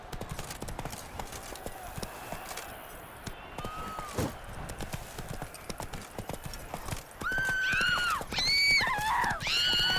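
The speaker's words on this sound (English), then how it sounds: "hoofs pound the ground" Horse hooves gallop in The Witcher 3, a rapid, steady clatter of hoofbeats beneath game music and noise, joined near the end by loud, high whinnies.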